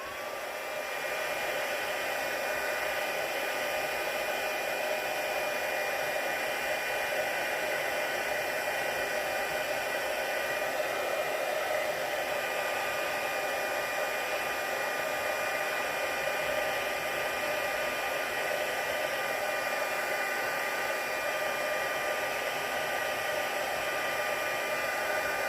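A heat tool or dryer blows steadily and loudly for the whole stretch while drying a handmade Stampin' Up! thank-you card, a continuous even rush of air with no talking.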